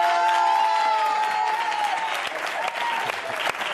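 Audience applause at a live Spanish stage show, dense steady clapping from a crowd filling the room, with a sustained tone and some voices mixed in beneath it.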